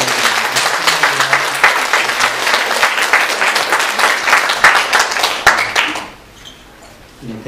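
A church congregation at a Sunday worship service claps loudly and continuously for a member's birthday, the applause cutting off near the end to a quiet room.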